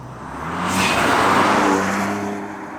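BMW M2 Competition engine pulling hard at full throttle in third gear, a loud rising roar heard from inside the car that swells and then eases over a few seconds.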